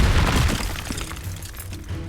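Fiery Confringo blast spell striking in Hogwarts Legacy, a loud booming burst with shattering crash up front that decays into a rumbling tail over about two seconds.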